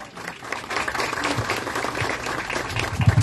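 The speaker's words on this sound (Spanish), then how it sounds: "Un fuerte aplauso, por favor." Strong, sustained applause from a crowd gathered at a road inauguration ceremony, steady and fairly close for several seconds with a louder swell near the end.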